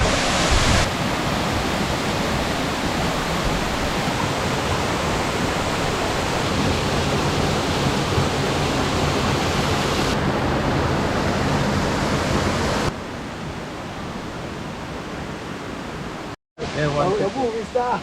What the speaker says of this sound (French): C'est un petit peu froid, mais c'est une bonne douche.